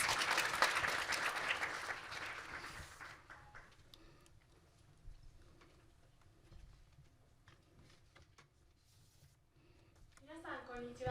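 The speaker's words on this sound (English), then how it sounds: "let us all welcome her with a warm round of applause" Audience applause at a children's world peace summit in Japan, loud at first and then thinning into scattered claps over quiet room noise, with a voice starting near the end.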